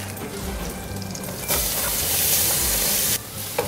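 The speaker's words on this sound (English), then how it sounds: "We're going to cook this up together with the onions." Onions and herbs fry in a pot with a loud, steady sizzle that swells into a bright hissing burst midway before settling back, close and without speech.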